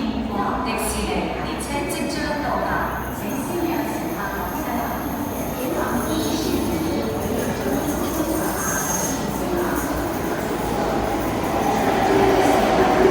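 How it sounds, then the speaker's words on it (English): A train rumbles into Sunny Bay Station nearby with high squealing wheels and rattling carriages, growing louder toward the end over background chatter. "Here's the theme train with the Frozen theme on it."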